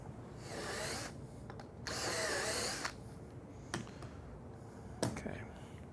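A drill press bores holes in a wooden cabinet panel in two short whirring bursts, followed by quieter clicks and knocks of handling, close and fairly soft.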